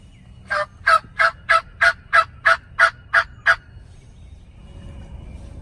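A wild turkey gobbles during a spring hunt in Kentucky: a rapid run of about ten sharp, evenly spaced gobbling bursts, clear and fairly close, then quiet outdoor background.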